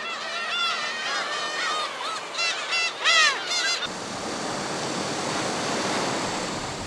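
Black-tailed gulls calling beside the sea on Baengnyeong Island, several harsh overlapping cries for a few seconds, then only the steady wash of surf and wind.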